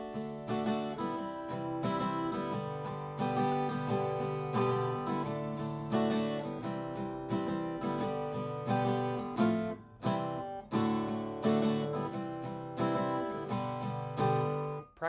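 An acoustic guitar strums a fast chord progression, driving rhythmic strokes in a steady run with a brief break near the middle, close and alone.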